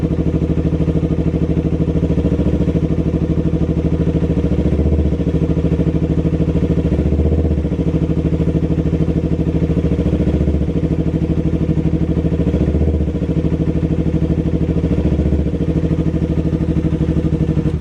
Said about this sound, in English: after you adjust your throttle, it should be like this, where you do minimal movement and get some throttle response